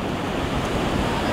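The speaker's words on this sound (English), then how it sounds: "This is a beautiful, mighty Pacific Ocean." Pacific Ocean surf breaking at Rockaway Beach, Oregon, a steady, loud broadband roar of waves with wind buffeting the microphone throughout.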